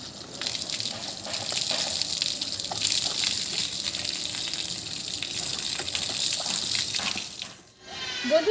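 Water gushes steadily from a tap during a hair wash with shampoo, a continuous close rush with small splashes, briefly dipping near the end before resuming.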